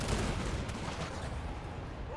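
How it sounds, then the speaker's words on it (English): Organ cannons fire in a fantasy battle in Total War: Warhammer 2, a dense, continuous crackle of rapid gunfire and artillery booms heard at a distance, fairly faint under a noisy battlefield mix. "Like cannon machine guns."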